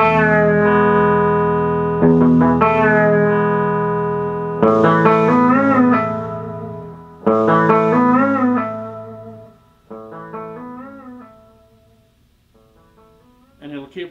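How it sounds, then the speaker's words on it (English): Electric guitar chords run through a tap echo pedal set to a long delay, each strummed chord ringing out and repeating with warbling, chorus-like trails that slowly fade, loud and close. "See how it's a kind of a cool, real long delay."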